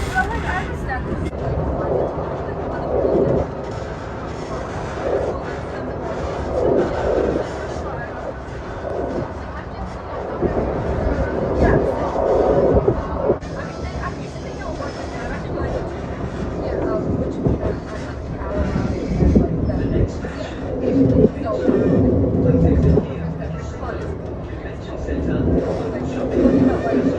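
A tram ride on the Gold Coast, with a continuous low rolling rumble and clatter of the moving tram cars, swelling and easing throughout while people talk over it.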